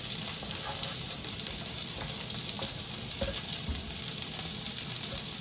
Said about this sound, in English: you certainly want to get a good sear on it